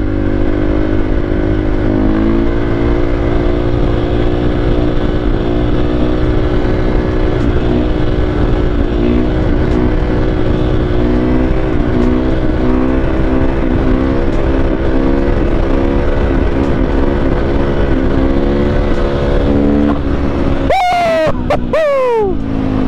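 A motorcycle engine drones steadily and loud, with pitch rising and falling as the throttle is worked during a wheelie, ending in a sharp burst of rev and fading at the very end.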